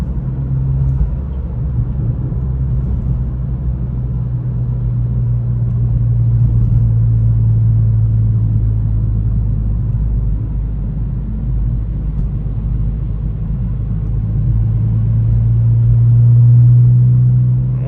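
A 2023 Acura Integra with a Remark aftermarket exhaust and manual transmission cruises at night, giving a steady, loud, low droning rumble heard from inside the cabin that swells slightly a couple of times, with no talking.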